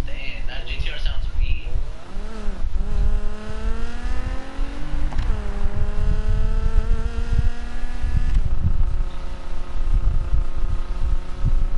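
A GTR race car engine in a video game revs and shifts gears repeatedly, pitch climbing and dropping in a loud, sustained drone without pause.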